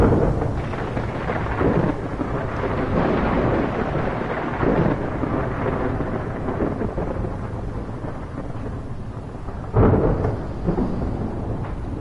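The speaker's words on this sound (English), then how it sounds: "Get out from under this stupid storm" Dense, constant rainfall from a video game thunderstorm, layered with rolling thunder that swells several times and cracks more sharply near the end, loud and enveloping throughout.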